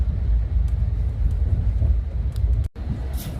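A train travels slowly over the Tonigal bridge in Shiradi Ghat on the Hassan–Mangaluru line: a steady low rumble with faint clicks, briefly cut by a sharp dropout near the end.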